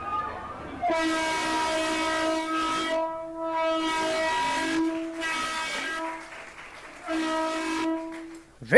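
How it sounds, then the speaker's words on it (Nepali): Train horn sounds in three long sustained blasts with pauses between, loud and close, as a Janakpur–Jaynagar passenger train departs Jaynagar for Nepal, with railway noise underneath. "जयनगरबाट रेल नेपालका लागि छुटेको छ"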